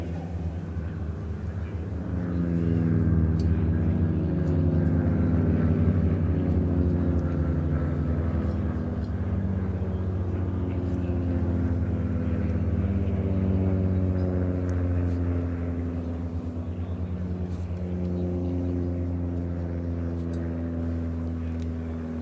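Several Baby Blue display team light aircraft engines rise to a loud, sustained drone as they start their takeoff roll at an air show, with overlapping propeller tones climbing and settling over about twenty seconds.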